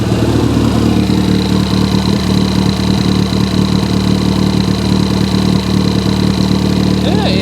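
A Ford Fiesta ST180 idles with no exhaust fitted and no coolant, a loud, raw, steady drone with a rough low pulse, close by, with people talking over it.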